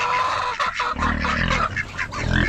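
A hen clucking on a farm, apparently about to lay an egg. Its repeated low, throaty clucks come in short bursts and sit close, with no talk in the clip.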